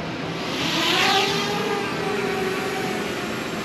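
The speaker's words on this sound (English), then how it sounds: "I'm about to fly my drone and just see if I can go look at this pond." A small camera drone flies near a pond, giving a steady broadband whir with a faint higher tonal whine that swells slightly around the first second before holding level, with no voices.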